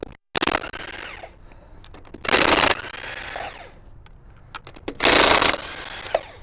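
Impact gun zipping lug nuts off a Nissan NV 1500 van wheel during roadside tire change: three loud, close bursts of high-pitched whirring rattle, each about half a second long, separated by quieter handling noises.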